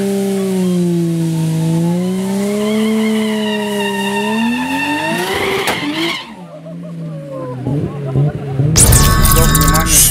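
Loud JDM race cars roar past up close, their whining engine pitch sliding down as they go by, with people talking over the noise.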